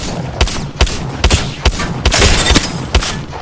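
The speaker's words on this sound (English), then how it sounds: "when I'm shooting my gun, like as you can see" Rapid bursts of rifle fire from the player's own gun in Apex Legends, about eight sharp, evenly spaced shots ringing out loud and close with no voices.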